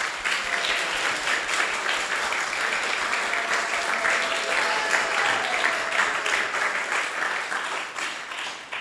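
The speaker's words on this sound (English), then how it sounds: "please thank them with a round of applause" An audience gives a round of applause at an ISKCON temple gathering in Silicon Valley after a Krishna Katha talk, steady dense clapping from many hands filling the room at moderate level throughout, with no voices standing out.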